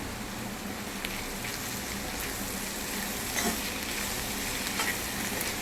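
Green chillies drop into a pan of simmering ridge gourd curry, giving a steady, close sizzle and bubbling frying hiss with a few faint stirring clicks, no voices.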